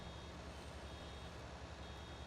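Reversing beeps from a farm vehicle in Farming Simulator 19, a steady tone sounding over a continuous loud engine drone with no speech.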